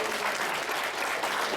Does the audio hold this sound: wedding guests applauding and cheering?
yes